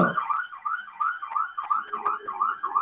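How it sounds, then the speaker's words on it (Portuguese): An ambulance siren close by outside, a loud wailing two-tone cycle repeating rapidly and steadily throughout, with no talk. "com a ambulância aqui do lado"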